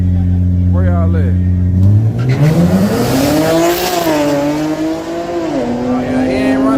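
A Camaro race car launches and accelerates hard in a drag race, its engine note climbing loudly through gears with tire noise, while excited voices talk over it.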